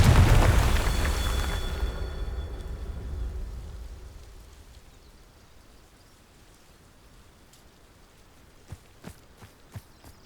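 The Confringo explosion spell in Hogwarts Legacy, a loud booming blast with a ringing tone that slowly fades over several seconds, followed by quiet ambience and a few faint sharp ticks.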